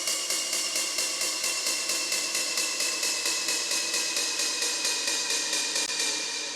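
A falling 909 snare effect built from a synthesized snare with downward pitch automation of about seven semitones and reverb, for acid techno production; a rapid train of bright, even hits repeats steadily for several seconds at a constant level, with no talking.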